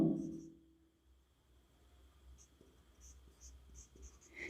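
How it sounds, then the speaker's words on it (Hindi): Chalk or marker scratches on a classroom board as a name is written during a class 12 chemistry lesson, a run of light, faint strokes with short taps at uneven spacing in a quiet room, without speech. "उसका नाम मैं लिख देता हूं"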